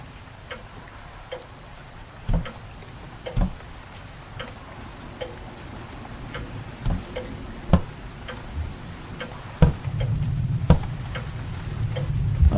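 Ticking clock in the video game Last Days of Lazarus, sharp isolated ticks about once a second over a low steady background hum, with a louder rumbling layer swelling near the end.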